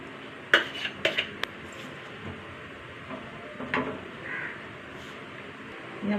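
Beaten egg cooking in a pan with coconut oil, a steady soft sizzle with a few sharp clinks of utensil against the pan near the start.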